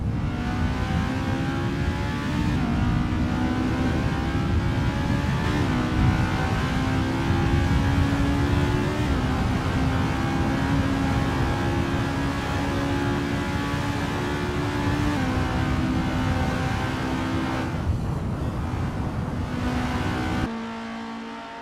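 A formula race car on a practice out lap at Zandvoort in a racing game, its engine droning loud and steady throughout as the revs climb and drop through shifts, then easing off near the end.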